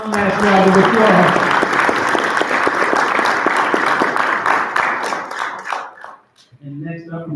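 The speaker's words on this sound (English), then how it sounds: "One last round of applause." At a school board meeting, an audience breaks into loud, close clapping after a speaker finishes, which fades out after about six seconds; a voice is heard at the start and again afterward.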